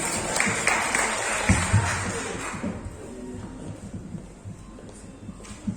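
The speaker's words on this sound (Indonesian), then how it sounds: "Kita beri aplaus untuk Mbak Ayu" An audience at a village fund (dana desa) outreach meeting claps for Mbak Ayu, a dense burst of applause that fades out after about three seconds, followed by quieter room shuffling and talk.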